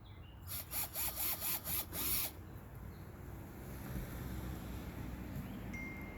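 A power drill bores a hole into a kayak hull to fit an anchor trolley, six short revving bursts close by, then quiet outdoor background with no talk.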